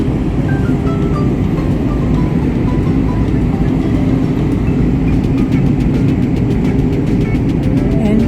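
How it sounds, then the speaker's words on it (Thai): Steady, loud droning cabin noise of an airplane descending toward Frankfurt at night, with a constant low rumble and engine hum, no voices, unchanging throughout. "ตอนนี้เครื่องบินลดต่ำลงแล้วใกล้ฟังฝนแล้วนะคะ"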